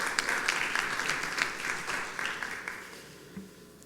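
Audience applause fills a conference hall during an IETF administrative plenary, a steady wash of many hands clapping that thins out and fades toward the end, with no one speaking over it.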